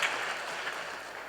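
A church congregation at a Sunday service claps warmly in welcome, soft and somewhat distant, a continuous even patter of many hands.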